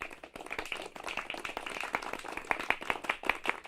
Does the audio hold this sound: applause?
yes